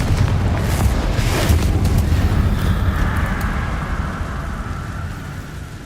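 A Confringo fire spell erupts in Hogwarts Legacy, a loud rumbling boom with crackling debris that trails off into a hissing, rain-like wash.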